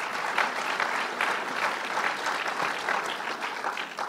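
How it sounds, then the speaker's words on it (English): An audience at a gathering with officials and business and labor guests gives a round of applause: dense, sustained clapping, loud and even from start to finish. "give everybody a round of applause"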